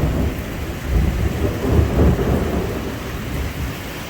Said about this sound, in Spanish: Truenos y más truenos.